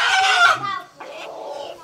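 Chickens clucking and calling at close range on a small farm, a dense burst of loud clucks for about half a second, then a softer, steadier run of clucking that trails off.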